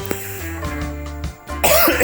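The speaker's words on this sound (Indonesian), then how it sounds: "Sorry gua batuk dulu." A single cough from a barber during a haircut trim, a short sharp burst near the mic with a little throat noise before and after.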